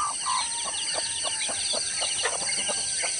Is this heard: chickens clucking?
yes